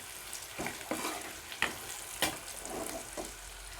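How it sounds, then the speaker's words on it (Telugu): Soft, continuous frying sizzle of bitter gourd in oil, broken by several clacking stirs of a utensil against the pan, fairly quiet. "ఈ విధంగా చక్కగా కాకరకాయలు వేయించుకున్న ఆయిల్లో"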